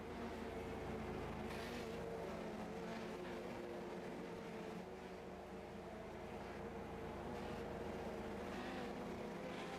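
Legends race cars circle slowly behind a pace truck on a yellow-flag pace lap before the Lobster Bake 50, a steady, distant drone of several engines humming together with no distinct passes.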